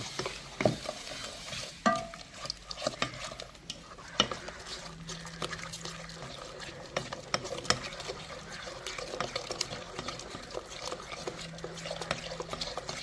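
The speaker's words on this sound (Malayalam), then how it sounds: "കുറച്ച് വെള്ളം നമുക്കിതിൻ്റെ ഒരു ബാറ്റർ തയ്യാറാക്കണേ നന്നായിട്ടൊന്ന് മിക്സ് ചെയ്യാം" Mushroom batter of flour, salt and water being stirred and mixed by hand in a bowl in a home kitchen, a steady run of soft wet scraping and sloshing strokes at close range with no talk.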